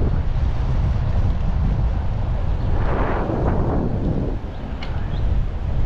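Strong wind buffeting the microphone at a beach during a bike ride, a loud continuous rumbling roar with a brief gusty swell midway.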